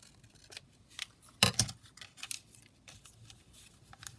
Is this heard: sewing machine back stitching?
no